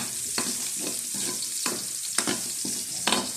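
Garlic frying in a pan until browned, with a steady sizzle broken by repeated scraping strokes of a spatula stirring it, close and clear.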